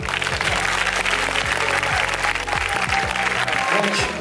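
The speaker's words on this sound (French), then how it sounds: "Il n'y a que ça comme applaudissement" Audience at an evening film festival opening applauding, a continuous clatter of clapping over a low hum, with some voices mixed in.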